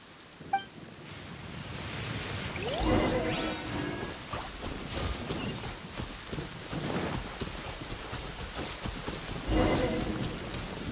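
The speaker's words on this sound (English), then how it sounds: "Uh-oh! Lightning storm!" Rain pours steadily in a thunderstorm in the video game Genshin Impact, with loud thunder claps cracking near the start, around three seconds and again near the end, and a brief voice heard over the downpour.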